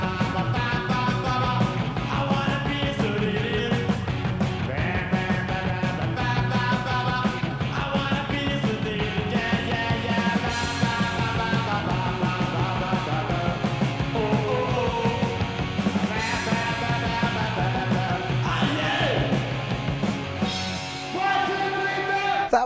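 A punk rock song: loud and driving, with distorted guitars, steady pounding drums and shouted vocals, dense and energetic throughout.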